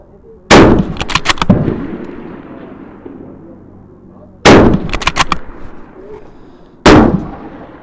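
Bolt-action rifle fired at an outdoor range in Thun during a bolt-action challenge: three loud, sharp shots, near and close-set, each followed by rattling echoes that fade into the background, with no talk.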